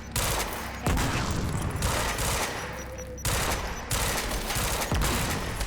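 Pistol gunfire in the video game Quantum Break, several loud sharp shots with bursts of game noise in between, spaced irregularly over a continuous busy background.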